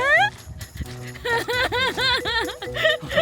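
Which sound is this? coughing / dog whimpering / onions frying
dog whimpering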